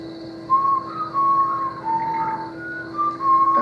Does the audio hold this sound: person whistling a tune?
yes